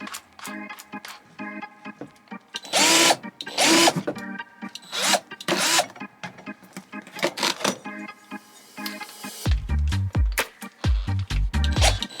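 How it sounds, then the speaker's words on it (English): A power drill pre-drills holes in several short, loud bursts close by, with clicks and handling noises between them and heavier low thumps near the end. "I'm just going to go ahead and pre-drill the holes"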